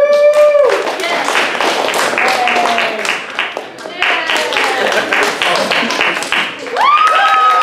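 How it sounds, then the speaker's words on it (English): Applause and cheering rise from an audience at a fan convention panel for a Persona-themed group date, loud and sustained with whoops and shouting voices mixed in. "loudest applause is the winner"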